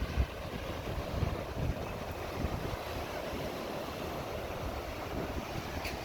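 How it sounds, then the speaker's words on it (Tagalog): Moderate wind blowing steadily by the sea, with gusts buffeting the microphone over a soft, continuous wash of surf. "Hindi naman masyado malakas siya. Patamtaman lang yung hangin."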